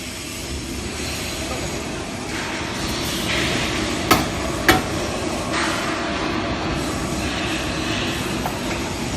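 Automatic vacuum homogenizing emulsifying cream machine stirring, a steady mechanical rumble and whir that holds throughout, with two sharp metallic knocks partway through.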